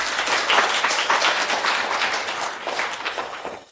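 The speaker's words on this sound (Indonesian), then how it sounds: "Mari kita sambut dengan tepuk tangan meriah." An audience greets an artist back from Italy with warm applause, many hands clapping together in a full, close burst that swells early and slowly thins toward the end.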